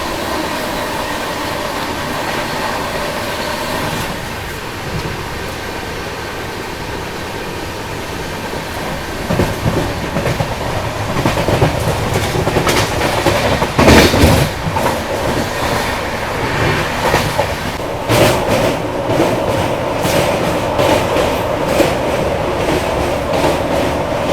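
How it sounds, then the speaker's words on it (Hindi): An Indian express train running fast on its tracks at up to 130 km/h, passing a station and overtaking a local train, a loud steady rumble with rhythmic clattering of wheels over rail joints and occasional sharp metallic bursts. "तो अभी अपनी ट्रेन स्किप कर रही है सुलुरुपेटा रेलवे स्टेशन"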